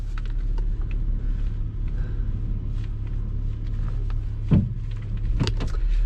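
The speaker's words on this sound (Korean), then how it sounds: "다시 시동을 꺼도록 하겠습니다." A 2011 Kia Soul engine idles with a steady low hum close by, and a brief mechanical clunk comes near the end. No voices are heard.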